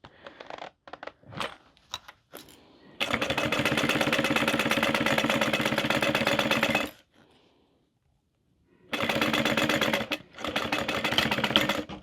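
A sewing machine stitches a boxy bag seam in two steady, rapid bursts of several seconds each, separated by a quiet pause, with a few short clicks and taps of handling before the first run.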